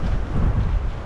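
Wind gusts buffet the microphone during prawn fishing at Teluk Intan, a loud low rumbling blast that fluctuates continuously through the short moment with no talking.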